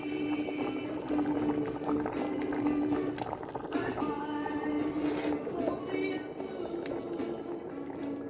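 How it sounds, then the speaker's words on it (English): Glutinous rice balls drop into a pot of simmering binignit, a coconut milk dessert, with steady bubbling, soft splashes and a few clinks of a utensil, close up and without speech. "it's time for me to add our Bilo or our glutinous rice balls into our Binignit"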